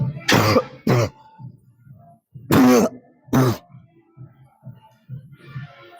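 Four harsh coughs come in two pairs, loud and close, separated by short gaps with faint breathing and rustling between them, in a gym setting.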